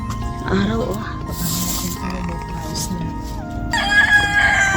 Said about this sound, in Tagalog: Tilaok ng manok.